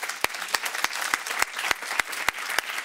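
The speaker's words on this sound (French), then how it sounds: "quelques applaudissements seront les bienvenus" Applause from the audience at an agricultural direct-marketing awards ceremony, a dense, steady patter of clapping with a few louder, sharper claps standing out in a regular beat.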